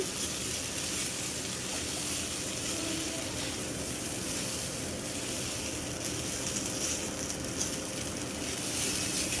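Rice fried and stirred in a pan for khud bhat, prepared like pulao, giving a steady close sizzle with faint scraping of stirring throughout, no voices.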